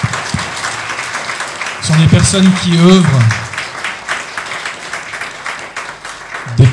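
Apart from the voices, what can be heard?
audience applause for conference speakers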